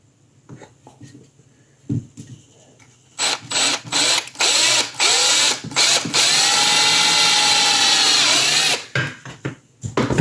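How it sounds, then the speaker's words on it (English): A small 3/16 inch drill bit bores a pilot hole in a work-in-progress sculpted figure, the drill whirring in short bursts and then one long steady run, loud and close. "I just got a small 3/16 inch drill bit to do a pilot hole."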